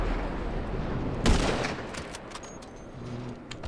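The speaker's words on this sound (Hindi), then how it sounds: "यहीं से स्नाइपिंग कर दूंगा गाइस" A sniper rifle fires in the video game GTA 5, one sharp booming shot standing out over steady background game noise, with fainter distant reports afterward.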